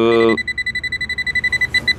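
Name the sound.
electronic leak detector beeping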